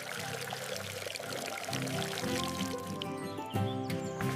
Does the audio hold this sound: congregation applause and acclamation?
no